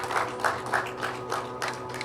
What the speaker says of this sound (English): A big round of applause to Gina and the team.